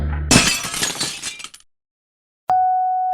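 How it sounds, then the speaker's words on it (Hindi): A coconut is hurled at the window glass of an expensive car, a loud crash and shattering spray of glass that rings out and fades within a second, followed after a pause by a steady electronic tone. "नारियल उसकी महंगी गाड़ियों के कांच पर जोर जोर से फेंकती है"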